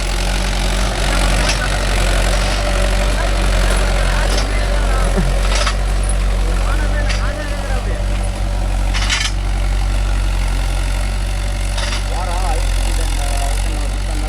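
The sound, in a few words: Mahindra tractor engine running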